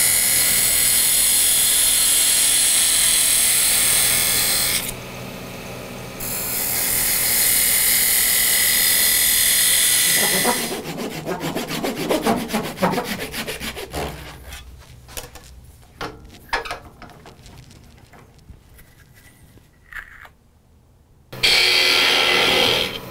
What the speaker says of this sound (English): take my really thin parting tool and come in here and now get rid of this excess wood and start parting it off